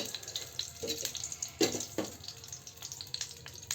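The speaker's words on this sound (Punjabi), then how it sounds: "ਘਿਓ ਨੂੰ ਆਪਾਂ ਗਰਮ ਹੋਣ ਦਿੰਨੇ ਆ" Desi ghee heating in a pan while rice cooks for sweet zarda rice, a soft, crackling sizzle with small pops and light clinks, fairly quiet and close, no voices.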